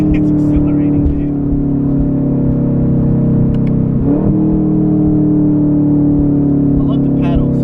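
A Chevrolet Camaro SS engine drones loud and steady as it accelerates, a continuous close-up roar, with a voice speaking briefly over it.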